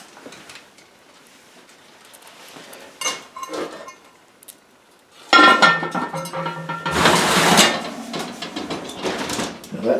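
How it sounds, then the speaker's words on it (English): A sourdough loaf goes into an old, well-worn Dutch oven with clanks and scrapes of heavy cookware, starting as sparse knocks and building into a loud, sustained metallic clatter up close. "And now it's going to go in my Dutch oven."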